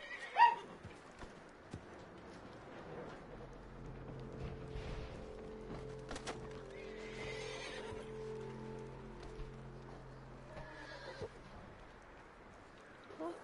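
In the video game Red Dead Redemption 2, a horse whinnies loudly, then hooves clip-clop steadily over a low tonal hum, with a few sharp clicks near the start and end.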